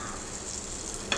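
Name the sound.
butter sizzling in a hot pan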